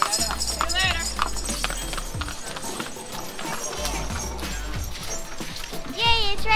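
Horse hooves clop in an uneven rhythm amid busy outdoor noise on Gili Trawangan, Indonesia, with voices and chatter mixed in throughout.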